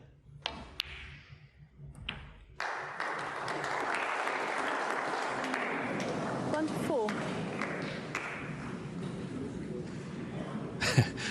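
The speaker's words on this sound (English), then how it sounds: "You heard the oohs and ahs of the crowd" Snooker crowd at the 2023 European Masters final. After a couple of sharp knocks, a broad, sustained swell of crowd reaction and applause rises and carries on, moderately loud, with small bursts near the end.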